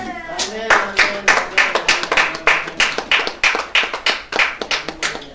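A church congregation claps in unison to acclaim Jesus during a French-language prayer service, sharp rhythmic handclaps at a brisk steady beat, loud and close, with voices singing or calling underneath.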